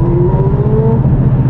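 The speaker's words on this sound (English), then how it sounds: "I hate the sound of motorcycles." A motorcycle passes on a road near a bank, a loud close engine drone with a slowly falling whine and no talk over it.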